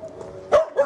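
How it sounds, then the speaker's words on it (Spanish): A dog barks twice in quick succession, close and fairly loud, after a brief low whine. "¡Ay, perro, cállate, perro!"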